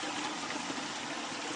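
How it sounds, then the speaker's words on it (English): A small garden waterfall pours steadily, a continuous broadband rush of splashing water, close and even with no pauses or voices. "Back over here to the little waterfall."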